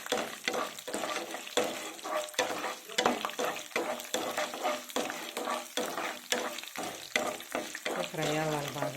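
Mustard seeds, cumin, chana dal and garlic fry in hot oil with a steady crackling sizzle, broken by repeated scraping stirs of a spoon against the pan throughout.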